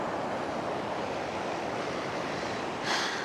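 Ocean waves wash steadily onto a shore in a continuous broadband hiss of surf, holding an even level before a brighter surge swells in near the end.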